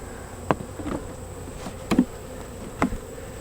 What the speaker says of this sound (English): So there's some bees right there,